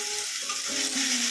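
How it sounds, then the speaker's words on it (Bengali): Coriander chicken being stirred in a frying pan, a continuous close sizzle with soft scraping of the utensil against the pan, no voices. "দিয়ে আর একবার নাড়াচাড়া করে দিচ্ছি"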